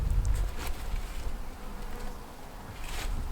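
Honey bees at a hive being prepared for winter give a steady, low buzz that holds throughout, with a few louder passes as single bees fly close by.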